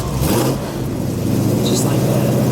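A 1961 Ford Ranchero engine turns over and catches, then settles into a steady low rumble close by, with a voice briefly heard over it.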